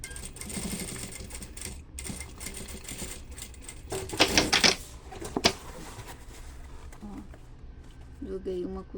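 An electric sewing machine runs in steady whirring stretches while stitching the seam of a fabric tote bag, close and continuous, with someone speaking throughout.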